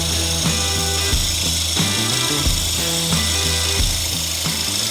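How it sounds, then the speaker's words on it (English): A power tool blade cuts out grout between tiles, giving a steady, loud, close grinding buzz that rises and falls with rhythmic strokes for the whole stretch, and no one speaks. "I'm gonna go around and cut out the grout, but I'm gonna favor my blade on this side"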